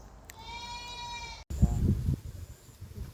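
A goat lets out a long, wavering bleat nearby, followed by a short burst of voices and handling noises.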